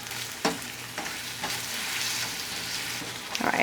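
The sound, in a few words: butter and brown sugar melting and bubbling in a pan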